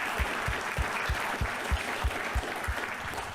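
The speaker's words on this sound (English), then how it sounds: "I think we should give them both another round of applause." A conference audience claps steadily and briskly throughout, with dense applause and a distinct rhythmic pattern of individual claps close by.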